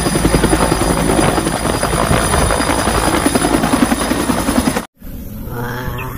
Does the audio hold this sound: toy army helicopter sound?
yes